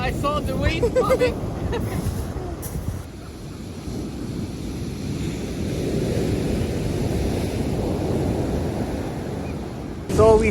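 Heavy surf rumbles steadily on an Iceland beach near Seljalandsfoss, with wind buffeting the microphone, and the waves build into a broad wash of noise through the middle.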